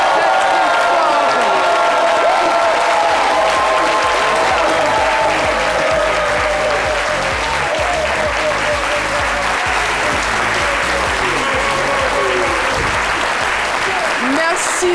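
A studio audience on a French-language Ivorian midday TV show applauds a Thai boxing champion, with loud, sustained clapping and some cheering over fifteen seconds while a host talks over it.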